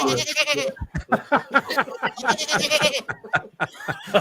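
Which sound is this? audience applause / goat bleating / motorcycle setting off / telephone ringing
goat bleating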